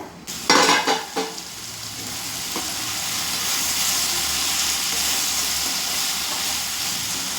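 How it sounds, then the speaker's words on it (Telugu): Okra pieces frying in a pan with salt and chili, opening with a few clanks of a spoon against the metal, then a steady close hissing sizzle that builds and holds, with no voices. "ఉప్పు కారాలు బెండకాయ మొక్కలకి బాగా పట్టినంత వరకు ఫ్రై చేసుకుని ఉంటానండి"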